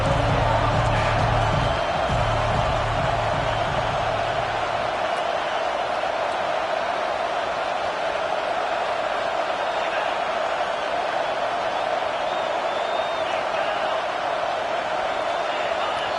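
Stadium crowd noise from the Madden football video game forms a broad, steady murmur and roar that holds for the whole stretch, with a low rumble fading early on.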